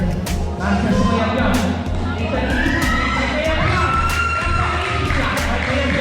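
A crowd cheers for Team C at a Golden Boys League basketball championship game in 2025: loud, continuous shouting and cheering with sharp peaks, and voices call out over the din throughout.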